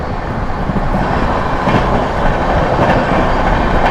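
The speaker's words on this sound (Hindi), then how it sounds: "अपनी Mau Anand Vihar superfast express overtake करने जा रही है दरभंगा नई दिल्ली क्लोन को" The Mau–Anand Vihar Superfast Express overtakes the Darbhanga–New Delhi Clone on a parallel track, a loud, close, continuous rumble of rolling wagons with rhythmic clickety-clack from the wheels.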